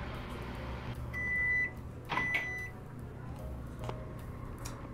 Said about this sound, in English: Microwave, see what that makes.